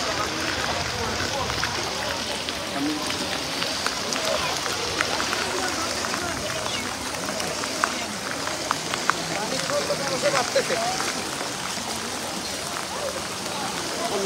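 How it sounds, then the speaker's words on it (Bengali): Heavy rain pours down in Bangladesh, a steady dense patter of drops hitting surfaces at an even level, with voices faintly present beneath the downpour. "বৃষ্টির তীব্রতাও বাড়ছে"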